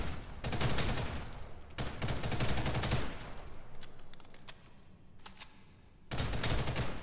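Video game weapon fire on a shooting range, dense bursts of rapid automatic shots in several loud strings separated by brief pauses, with no talking.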